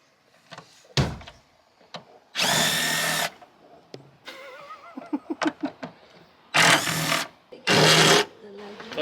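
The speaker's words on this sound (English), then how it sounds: "I hear drilling going on" Several loud bursts of a power drill whirring in short spurts, with quieter clicks and clattering in between.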